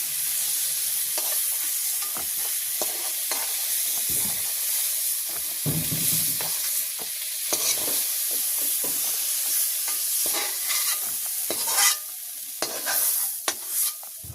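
Potatoes frying in a pan at a village cookout, a loud, steady sizzling hiss with frequent spatula stirs and scrapes throughout, close by and without talk.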